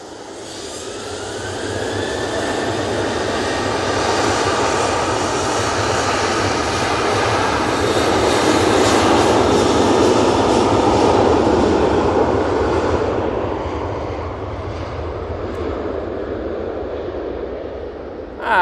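A Ryanair Boeing 737 turns onto runway 23 left and takes off, its jet engines building to a loud, sustained roar that peaks midway and then slowly fades as it climbs away, with no talk.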